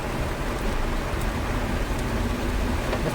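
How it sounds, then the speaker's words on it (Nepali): Heavy rain pours down steadily during a road trip near Siliguri, a dense, constant roar with no voices. "यस्तो डरलाग्दो पानी पर्दैछ"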